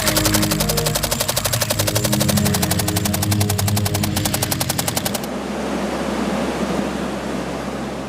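Rapid machine gun fire during a military paratrooper exercise: a loud, fast, even stream of shots for about five seconds that cuts off abruptly, leaving a low rumbling roar.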